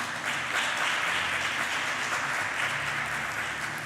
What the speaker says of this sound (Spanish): Un aplauso al Señor, pues, hermanos.